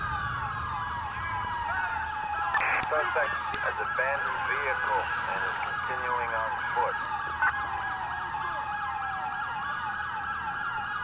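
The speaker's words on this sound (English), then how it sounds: "that siren is pretty annoying" A wailing police siren in GTA 4 sweeps up and down continuously and loudly throughout, with a brief burst of speech and engine noise partway through.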